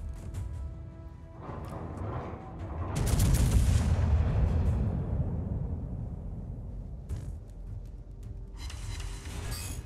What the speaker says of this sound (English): I'm gonna fire the rear turrets and then start turning a little bit